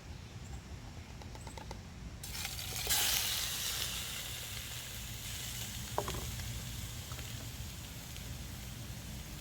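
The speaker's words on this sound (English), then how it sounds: "So did you hear that sizzle?" Pork hits hot oil in a mess kit pan and a steady hissing sizzle follows, with soft crackles and a faint clink over the continuous frying hiss.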